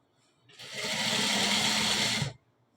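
A sewing machine stitches the front of a gents' pant in one continuous close, loud whirring run of about two seconds, starting and stopping abruptly, with no talking.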